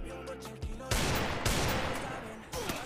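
Desert Eagle shots ring out in the battle-royale game Free Fire Max, a few loud, sharp bursts spaced about a second apart, each with a ringing tail over low in-game ambience.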